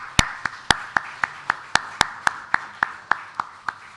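Church congregation applause during a Korean worship service, heard as a steady series of sharp individual hand claps at an even rhythm, fairly close and clear, with no talking over them.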